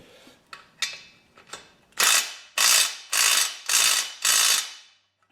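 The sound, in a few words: impact wrench tightening a bolt on transmission jack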